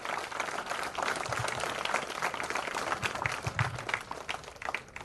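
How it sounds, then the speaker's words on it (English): A seated audience applauds NCC cadets on stage at an engineering college event, sustained dense clapping filling the whole stretch at a steady, fairly loud level with no one speaking over it. "one more round of applause for all the NCC cadets sitting on the stage here"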